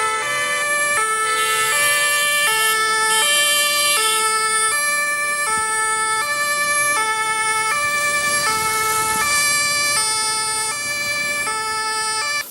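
An ambulance siren in Lagos road traffic cycles loud and close in a steady two-tone wail, alternating pitch about every second, with road noise underneath.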